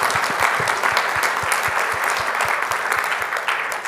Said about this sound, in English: Big round of applause for Elena Foster.